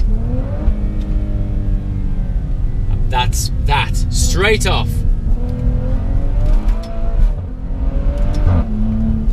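A Maserati SUV engine revs hard and rises in pitch, a deep throaty roar with some crackle, while someone talks over it.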